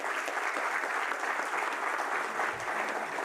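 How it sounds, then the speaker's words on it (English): An audience in a seminar hall at an IIT Delhi memorial lecture gives a steady round of applause, dense and even throughout with no voices breaking through. "I can have a round of applause for them."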